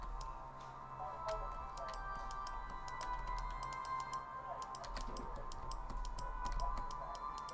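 Rapid, repeated mouse clicks while selecting objects in a video game, a quick irregular series of sharp dry ticks close to the microphone over a faint steady hum.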